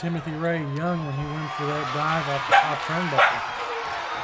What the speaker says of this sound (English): You can hear our dog Bailey in the background